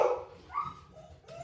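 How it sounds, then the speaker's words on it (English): A dog indoors barks once sharply, then gives a softer whimpering yip, brief and fairly faint against a quiet room. "My doggy's barking."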